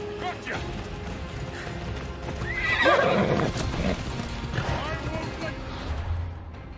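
A horse in Assassin's Creed Odyssey whinnies loudly in the middle of the clip, with hoof clip-clops and game ambience around it, all fairly close.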